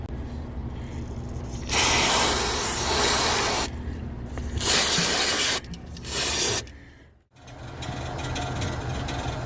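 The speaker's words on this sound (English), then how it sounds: "I'll spray it with some electrical cleaner" Electrical cleaner sprayed from an aerosol can onto a model locomotive's isolation switch after sanding, three close, loud hissing bursts of a few seconds each, separated by short pauses against a steady background hum.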